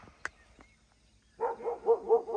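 A dog barks several times in a quick rhythmic series at moderate distance outdoors at Pokhara's lakeside, after a short quiet stretch with a few faint clicks.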